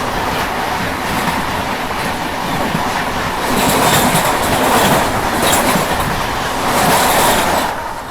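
Kushinagar Express train rumbling across a bridge over the Tapi River, heard from inside the coach as a loud, steady roar with rhythmic clickety-clack of wheels that swells midway.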